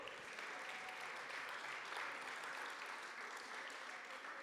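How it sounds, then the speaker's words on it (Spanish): A church congregation at Pan de Vida Juárez gives itself a round of applause, a faint, even wash of many hands clapping that holds steady for several seconds. "Dense un aplauso ustedes, por favor."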